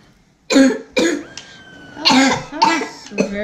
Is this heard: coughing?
yes